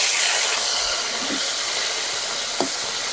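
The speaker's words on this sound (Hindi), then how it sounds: "अब तेल गर्म हो गया है, अब इसमें मछली डाल देते हैं" Naini fish dropped into hot oil in a home kitchen, a loud, steady sizzling hiss with a few faint pops, and no talking over it.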